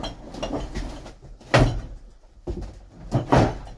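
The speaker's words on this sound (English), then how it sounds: "And close this drawer." A drawer is pushed shut with a few dull wooden knocks and thumps, close by and with no talking.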